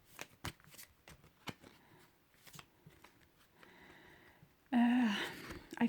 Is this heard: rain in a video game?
no